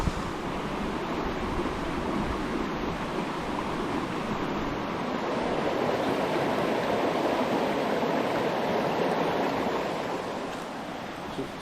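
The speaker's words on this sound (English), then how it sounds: "But the creek's flowing really well for the middle of summer." A mountain creek running strongly in midsummer makes a steady, full rushing roar close by, unbroken throughout.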